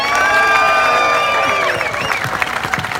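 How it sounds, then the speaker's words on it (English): A crowd cheers and applauds loudly at the opening of the Albany carousel, with whoops, shouts and children's voices mixed into a steady roar that eases slightly toward the end. "let's hear a big cheer for the city of Albany"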